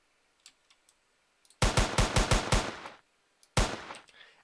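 Pistol shots in the Minecraft DayZ mod ring out as a rapid burst of about seven sharp, loud cracks, then one more shot after a short pause, with faint clicks beforehand.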